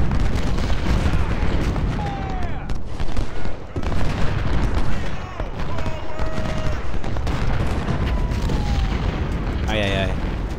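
Cannon booms and massed musket fire echo through a Civil War battle at Fredericksburg in Ultimate General: Civil War, dense and continuous with sharp blasts. Someone speaks over the fighting throughout.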